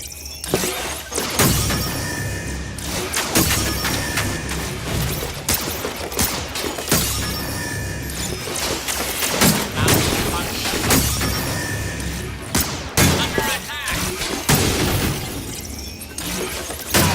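Gunfire and crashing destruction of machines in the Damaged Core VR video game, loud bursts of shots, shattering impacts and booms in dense, repeated volleys, with game voice dialogue in between.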